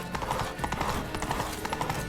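Horse hooves clip-clop steadily in The Witcher 3: Blood & Wine as a mount gallops toward a castle, a continuous close rhythmic patter of hoofbeats with occasional faint whinnies.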